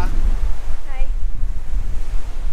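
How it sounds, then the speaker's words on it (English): Strong wind buffets the microphone at a beach during a kite foiling outing, a loud, steady rumbling gust mixed with the wash of surf, with a brief faint voice in the background. "It's windy now."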